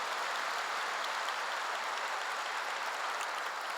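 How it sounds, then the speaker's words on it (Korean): A church congregation applauds in a steady, dense wash of clapping that holds evenly throughout, without voices. "박수를 세게 쳐야죠 이럴 땐."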